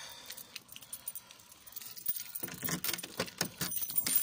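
Car keys jingle and clink close by, with scattered light metallic rattles first, then a busier burst of jangling after a brief pause, with no talk.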